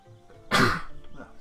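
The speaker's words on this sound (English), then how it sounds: "Gotta sneeze." A single sharp sneeze bursts out close and loud, followed by a brief trailing exhale and faint murmuring, with quiet background before it.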